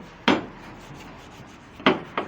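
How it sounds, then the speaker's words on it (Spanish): Sandpaper scrubs across the glazed friction face of a clutch flywheel in three short, dry scrapes, fairly quiet, with nothing else in between. "Vamos a pasar una lija para sacarlo cristalizado"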